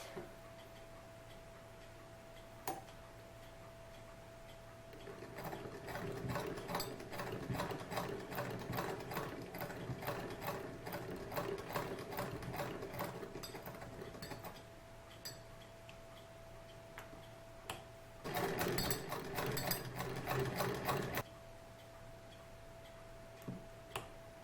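An antique 1908 sewing machine stitches fabric with a fast, even mechanical ticking that runs for several seconds, pauses, then starts again in a louder burst, heard close over a faint steady hum, with no talking.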